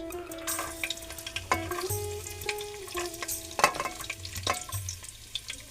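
Garlic fries in hot oil in a home kitchen, giving a moderate sizzle under sharp clinks and scrapes of a spoon stirring against the pan, with a low hum in the background.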